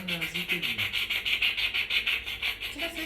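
Sandpaper rubbed back and forth in a steady rhythm of rough, scratchy strokes, close and fairly loud, with no talking, heard during a guess-the-sound game.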